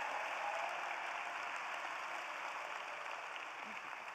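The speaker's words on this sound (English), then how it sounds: "let's give another round of applause for our volunteer dads." A large crowd applauds at a college of engineering commencement ceremony in spring 2022, a dense, even roar of clapping that holds steady throughout and fades only slightly by the end.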